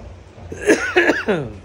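Three short, close coughs in quick succession, throaty and voiced, with no speech around them.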